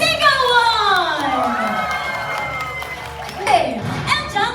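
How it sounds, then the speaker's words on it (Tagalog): Wedding guests at a reception give loud applause mixed with high shouting and cheering, a dense crowd roar that swells again near the end. "parinig naman ako ng palakpakan na may kasamang sigawan"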